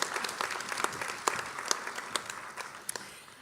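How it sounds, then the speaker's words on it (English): Applause from an audience honouring LINC Special Award winners at a graduation ceremony, a moderate, steady patter of many hands with a few sharper individual claps standing out, no voices over it. "So big round of applause for all our LINC Special Award winners today."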